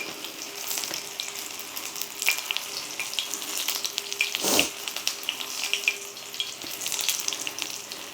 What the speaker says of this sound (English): Chose to deep fry, or not deep fry, but fry in this pan because I'm working on seasoning it